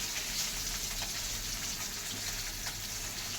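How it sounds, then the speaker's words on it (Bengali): Fish fries in a pan with a steady, even sizzle that is moderately quiet. The hiss runs unbroken throughout, with no voices. "এদিকে মাছ ভাজা হচ্ছে।"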